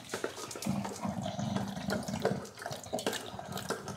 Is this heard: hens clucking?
no